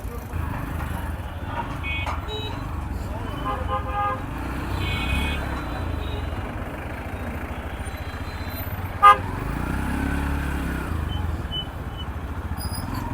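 Car horns honking in a traffic jam on a village road in Bangladesh, several short tooting blasts over a steady rumble of engines, with voices talking nearby.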